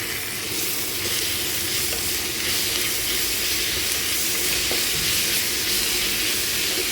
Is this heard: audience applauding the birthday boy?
no